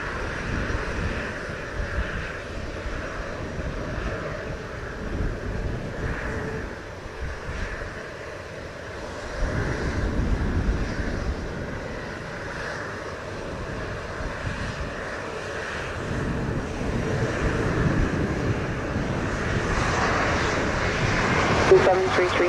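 A Delta airliner on approach to runway 07 at Montego Bay rumbles as a steady, broad engine roar that swells toward the end, while radio voices and nearby talk carry over it.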